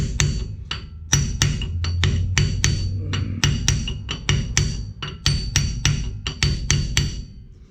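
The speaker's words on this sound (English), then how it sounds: "You really don't want to hammer around metal on metal" Repeated sharp metallic hammer strikes, metal on metal, while replacing a leaking pinion seal on a 2005 Ford F-150, in an uneven rhythm, close and loud, ringing briefly after each blow, with no talking.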